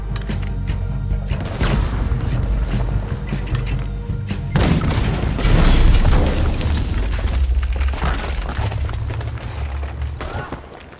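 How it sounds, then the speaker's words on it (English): Ship-mounted cannons fire during a battle in Red Dead Redemption 2. Loud, deep booms and blasts rumble continuously, with a sharp new burst midway and dense crashing noise after it. "there's another cannon up ahead on our left."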